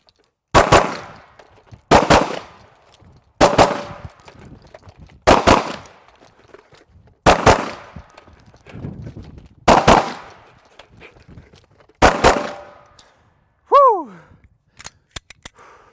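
Pistol shots ring out during a shooting drill, eight loud, close, sharp reports at roughly even intervals, followed by a rising electronic beep and a few faint clicks.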